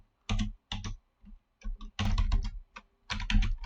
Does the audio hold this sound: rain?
no